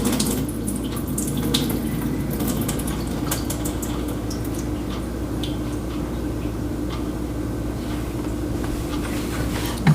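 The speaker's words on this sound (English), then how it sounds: "I want this to be nice and hot, and I'm gonna pour" Hot water poured steadily into a Chemex coffee maker's paper filter, a continuous close splashing trickle that runs unbroken for the whole stretch.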